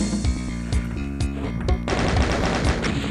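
Rapid gunfire in the 1996 Doom add-on The Plutonia Experiment, a dense rhythmic burst of loud repeated shots that shifts into a harsher, busier volley of overlapping blasts partway through.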